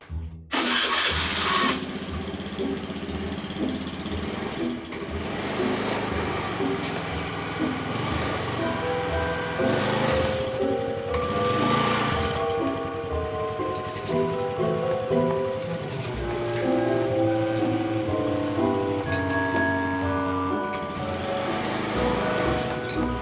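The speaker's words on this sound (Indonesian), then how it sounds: "Kita lindas dengan sepeda motor." Motorcycle engine running while the bike rolls over a circuit board in a durability test: a loud, continuous engine drone that holds steady throughout, with no speech.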